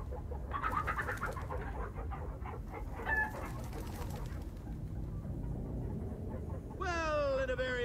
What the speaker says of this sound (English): it appears we are in the land of chickens that are indeed the size of zombies